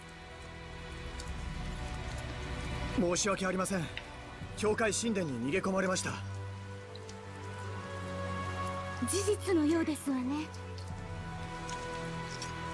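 Steady rainfall in the Tales of Zestiria video game, a constant soft hiss running beneath character dialogue and background music throughout.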